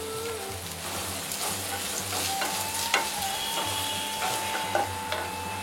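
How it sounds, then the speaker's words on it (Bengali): Chopped onions frying in hot oil in a wok, with a steady close sizzle and occasional stirring scrapes, no voices. "তেলটা গরম হলে পেঁয়াজ কুচি দিয়ে হালকা সোনালি করে ভাজুন।"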